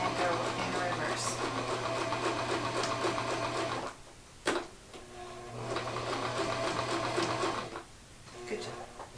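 A sewing machine stitches two pieces of fabric in a beginner's first sewing session, its rapid mechanical whir running close and steady, pausing briefly midway with a click before resuming, while voices talk over it.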